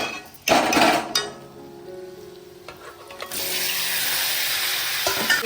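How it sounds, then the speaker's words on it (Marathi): Sizzling from mandeli fish frying in a turmeric and red chili masala in a pan, with stirring and scraping clatter early on, then a steady, loud hiss settling in for the final seconds. "पण छान परतून घेऊ मसाल्यामध्ये"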